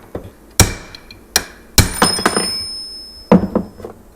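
A hammer strikes a punch to knock parts out of a fuel tank piece held on the edge of a vise, giving three loud, sharp metallic blows with lighter taps and ringing between them.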